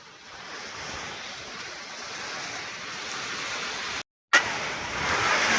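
Rain driven by strong wind in a storm, a steady broadband roar of gusts and downpour that runs throughout, broken by a sharp dropout near the end before resuming louder.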